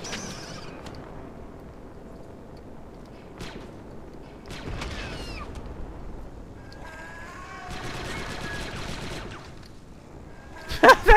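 Blaster gunfire in the Star Wars Republic Commando game, scattered bursts and an incendiary burning amid whirring mechanical effects, with a player's voice talking over the action and a louder burst of shots at the end.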